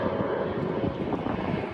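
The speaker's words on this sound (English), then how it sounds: "A lot of planes taking off." Jet aircraft taking off at Jeju's busy international airport, heard as a steady, broad roar of engine noise with no talking.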